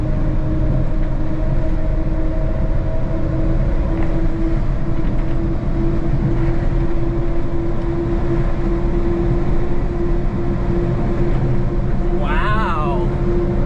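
A Honda Acty kei dump truck is heard from the cab, its small engine droning loud and steady under hard acceleration in fourth gear, with a constant road and engine roar throughout and a voice near the end.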